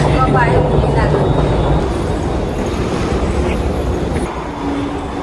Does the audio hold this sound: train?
yes